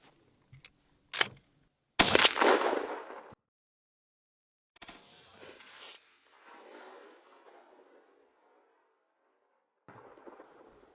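A Franchi Affinity 3 shotgun fires an Apex GT3 8-shot turkey load through a Pattern Master Code Black choke at a 40-yard pattern target: one sharp blast with a rolling decay, a few small clicks before it and low noise after.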